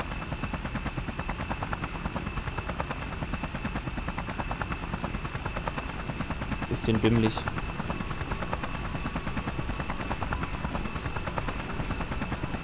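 A helicopter in the video game Just Cause runs as a steady rotor buzz with a rapid chopping pulse, continuous throughout, while someone speaks briefly over it.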